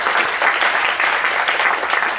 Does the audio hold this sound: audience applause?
yes